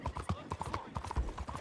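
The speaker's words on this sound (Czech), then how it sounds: "To je tady ten kůň rychlej." Horse hooves clip-clopping in Red Dead Online, a quick galloping rhythm of close hoof beats over a brief stretch, with someone talking over them.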